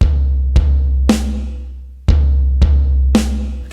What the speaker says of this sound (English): So just to recap, that's going to be 1 and, okay, with the bass drum, 2 on the snare